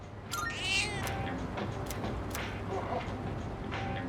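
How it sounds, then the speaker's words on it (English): A cat in the Persona 3 Reload video game meows several times over a low, steady purr, with soft game background sound beneath. "Purring loudly, seems happy."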